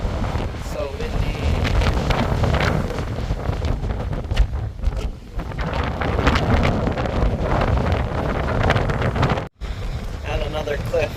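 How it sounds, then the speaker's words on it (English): Strong wind gusts batter the microphone at a cool, overcast beach in Big Sur, a loud continuous rushing roar with surf beneath, broken by a brief dropout near the end; a voice speaks faintly under it. "So windy."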